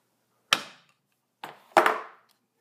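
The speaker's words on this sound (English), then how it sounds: "That's just, you know, one steady blow with the hammer." A hammer strikes a steel point chisel while a Gothic point is marked out, three sharp metallic taps alone: one at the start, then a softer tap followed closely by a louder one, each ringing briefly.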